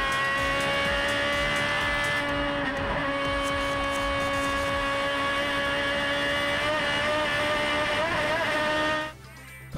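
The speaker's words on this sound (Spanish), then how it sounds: "¿cómo suena ese motorcito?" Race car engine during a motor race, a sustained high-pitched whine holding a steady note with slight pitch wavers, moderately loud and continuous, cutting off abruptly near the end.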